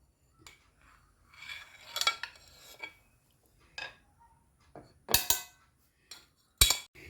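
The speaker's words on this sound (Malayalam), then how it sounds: "പുട്ട് വെന്തിട്ടുണ്ട്, ഒന്ന് കുത്തിയെടുക്കാം" Steamed jackfruit puttu is pushed out of a puttu maker with a few sharp metallic clanks and scraping knocks, spaced apart and separated by quiet gaps.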